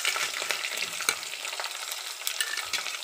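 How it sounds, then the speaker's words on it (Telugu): Chopped onions, curry leaves and seasoning seeds frying in oil for a homemade tomato curry: a constant bright sizzle peppered with sharp crackles and pops, close and alone. "కొంచెం తాలింపు గింజలు వేసుకుందాం. కొంచెం కరివేపాకు, కొంచెం కట్ చేసిన ఆనియన్స్ వేసుకుందాం."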